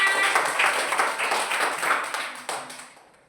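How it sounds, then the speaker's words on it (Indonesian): A classroom of children gives a short patter of applause in a Catholic religious education lesson in Merauke, steady for a few seconds and then tapering off. "Tepuk tangan."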